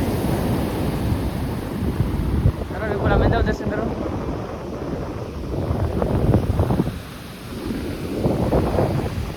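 Rough, storm-driven sea waves surge and wash onto the beach at Madhavpur while gusty wind buffets the microphone, with people talking nearby over the steady roar.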